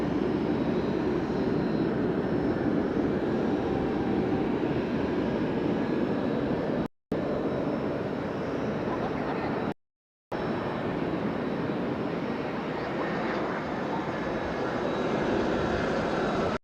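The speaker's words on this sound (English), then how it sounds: "we've got an incoming airliner" A Star Flyer airliner arriving at Fukuoka Airport makes a steady, broad jet-engine roar that holds at an even level throughout, broken only by two brief dropouts.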